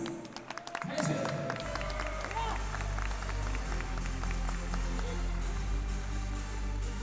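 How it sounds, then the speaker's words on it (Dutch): An audience at an Enfusion Rookies kickboxing event in Groningen claps in a sustained, dense wash of applause, with an announcer speaking over the crowd. "applaus voor de beide heren Lucas en Thijs"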